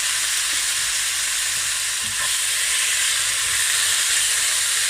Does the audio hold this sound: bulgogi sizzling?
yes